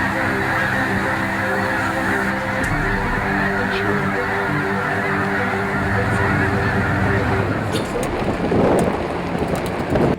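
A large flock of snow and blue geese honks continuously, a dense overlapping chorus that carries steadily throughout, backed by a constant rushing wash of noise.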